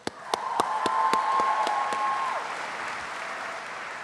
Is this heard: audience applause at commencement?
yes